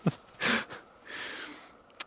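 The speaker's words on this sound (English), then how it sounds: "He's running around in circles, sniffing everything" A dog sniffing around outdoors in the woods, a few quick close snuffling breaths with short pauses between them, alone without talk.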